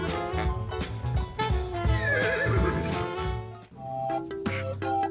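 A horse lets out a loud, drawn-out whinny during a scratching session, heard up close, followed by shorter snorting and nickering sounds with faint hoof movement.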